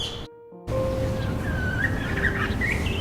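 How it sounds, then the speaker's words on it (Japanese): Birds chirp and twitter continuously in varied, warbling calls, fairly close, over steady outdoor background noise in a garden with a weeping plum tree, after a brief quiet moment. "鳥がすごい鳴いてる"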